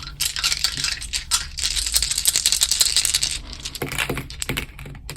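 Six dice rattling and clattering in a dice box, then tumbling out onto a surface as part of a tarot reading; a busy run of dense clicks and knocks followed by a few scattered taps, with no voices.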